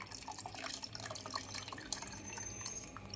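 Water trickles and splashes steadily into a pot for a few seconds, a close, continuous liquid pour with small drips, no voices.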